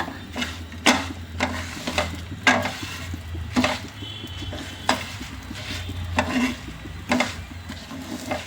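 Cumin, garlic and fenugreek roasting in a pan, with quiet dry sizzling under repeated scraping strokes of a spoon against the metal, steady and unhurried.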